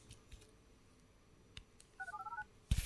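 Quiet room, then a quick run of about seven short touch-tone dialing beeps in a steady rhythm, followed by a sudden loud burst of noise.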